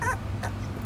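Puppies from a litter of young dogs whimpering and yipping for milk, a short high whine near the start and another brief cry, close by over low background rumble.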